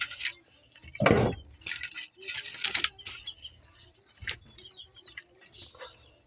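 At night, pigeons shuffle and flap their wings in an enclosed coop, with a loud burst of wingbeats, scattered rustling and faint soft cooing nearby.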